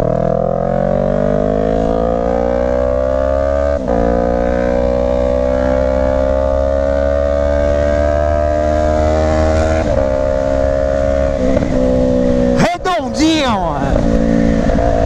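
Yamaha MT-03 motorcycle with a full 2-into-1 Atalla exhaust in 304 stainless steel, 2.5 inches, droning loudly and steadily close by while riding, then a brief sharp rev and crackle near the end.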